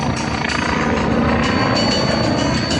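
Red Bull aerobatic helicopter flying a loop at the Camarillo air show, a loud continuous rotor and turbine roar with rhythmic blade chop, steady throughout.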